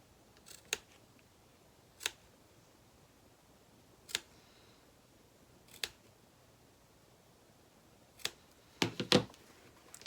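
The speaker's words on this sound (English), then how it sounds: "So I'm just clipping into the seam allowance" Scissors snip into the seam allowance of a fabric satchel back panel in a series of sharp, isolated clicks, six or so spaced across the quiet, with a quick double snip near the end.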